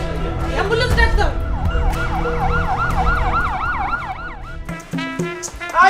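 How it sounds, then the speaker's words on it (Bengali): An ambulance siren wails in repeated rising and falling sweeps, fairly close and loud, with a busy street rumbling beneath; the siren stops near the end, followed by a few short clattering noises. "ভাইজান অ্যাম্বুলেন্স ডাক দাও"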